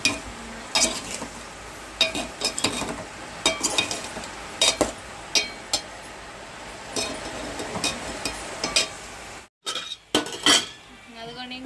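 Tomato and lentil curry stirred in a pan, with a spoon repeatedly scraping and clinking against metal in irregular bursts over a low kitchen background, briefly cutting out near the end.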